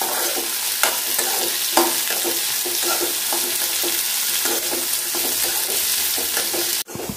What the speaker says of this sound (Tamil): பிரண்டை கொஞ்சம் நல்ல வதங்கணும்